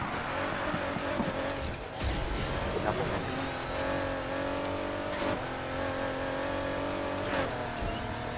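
Race car engines roar in the racing game NFS Heat, with a McLaren P1 close behind the player's Ford GT, giving a sustained high-revving drone with gear shifts and occasional whooshes.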